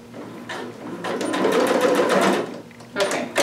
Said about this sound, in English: I'm just going to top stitch on that little spot